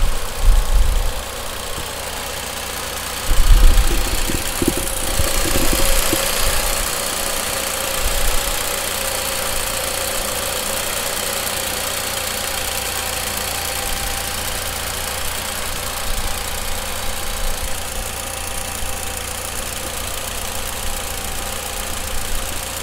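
A stock, unmodified Mitsubishi Lancer Evolution X idles with its engine bay open, a steady close mechanical hum with faint ticking that stays even throughout and swells briefly near the start.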